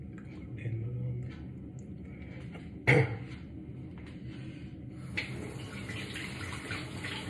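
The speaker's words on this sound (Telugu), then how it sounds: "ముందు గుడ్డు కడగాలి" Tap water runs steadily in a kitchen while an egg is washed under it, a continuous close hiss with one brief louder splash or knock partway through.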